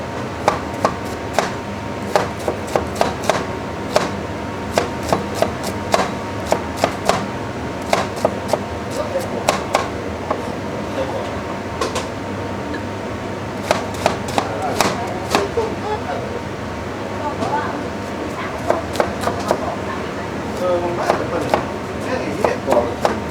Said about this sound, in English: We slice shallot